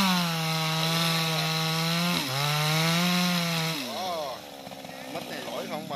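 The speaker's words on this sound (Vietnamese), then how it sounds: "Chú bắt đầu cuộn cái máy cưa." Chainsaw engine started and running beside a jackfruit tree about to be cut, a steady buzzing drone that dips in pitch briefly mid-clip, then drops lower and turns rougher and uneven toward the end.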